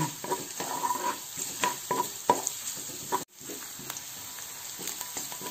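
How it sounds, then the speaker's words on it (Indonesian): Shallots and garlic sautéing in hot oil for a noodle dish, a steady close sizzle with scraping stirs and soft utensil knocks throughout, a brief drop near the middle, no talking. "Lalu kita masukkan bawang merah dan bawang putihnya. Kita tumis sampai bawangnya harum."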